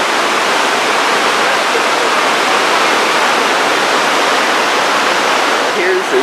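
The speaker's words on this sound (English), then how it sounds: "Water gushing down this chute." Loud, steady rush of falling water at Victoria Falls on the Zambezi River, pouring down a chute, a continuous broadband roar filling the whole stretch without letup.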